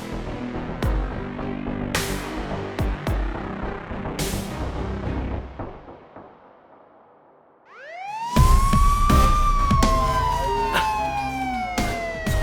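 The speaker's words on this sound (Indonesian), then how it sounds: "Suara sirine polisi." A police siren wails up and down, loud and close, after a stretch of clattering, rumbling noise that fades out.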